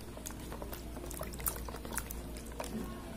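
Water splashes and trickles as dried bisugo fish is rinsed by hand in a basin, with irregular sloshing and drips close by, fairly quiet.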